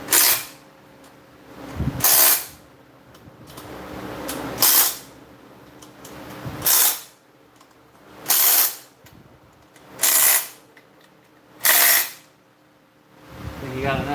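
A ratchet tightens bolts in a workshop in repeated loud bursts of clicking, about seven evenly spaced pulses separated by quieter gaps with background hum.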